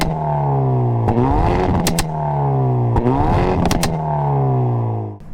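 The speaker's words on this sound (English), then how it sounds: "that's called the Hyundai Veloster N, and it sounds like this." Hyundai Veloster N with a 2-liter turbo engine revving hard, loud close engine note sweeping up and down in repeated climbs with sharp crackles and pops between revs.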